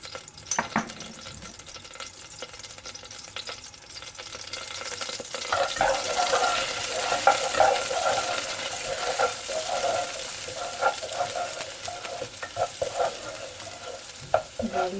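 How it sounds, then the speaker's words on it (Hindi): Garlic sautéing in a pan on a stove, a soft hiss that builds into a steady, close sizzle with scattered spatters and stirring scrapes throughout, no voices. "गार्लिक को थोड़ा सा सौटे करेंगे।"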